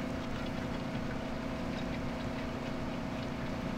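A two-stroke diesel engine in Farming Simulator 2017 runs at a steady idle, a constant loud drone with no change in pitch and no voices over it.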